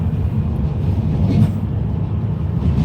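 A tram pulls away at night on a UK road between Stalybridge and Wigan, heard from inside a following car as a steady low rumble and rolling drone that holds level throughout, with no voices.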